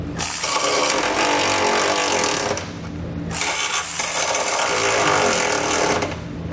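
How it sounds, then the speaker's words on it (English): A power tool, likely an impact wrench with a 19mm socket, drives the mounting bolts of a Curt trailer hitch receiver on a 2019 Buick Encore, in two long, loud, steady rattling bursts separated by a short pause. "we're going to come back with a 19mm socket and tighten it up"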